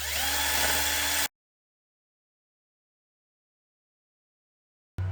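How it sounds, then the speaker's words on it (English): A cylinder hone spun by a power drill, working inside a collapsed water pump bushing on a Hercules engine, gives a short burst of steady high whirring whine that cuts off abruptly into silence. "let me borrow this cylinder hone. See if we can take some of that material out."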